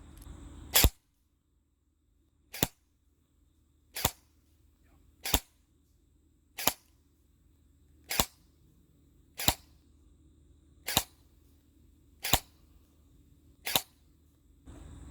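An EMG Helios airsoft rifle in CQB length, powered by a 7.4 battery, fires about eleven sharp single shots at roughly even spacing of a second or so, each a crisp crack over a quiet background.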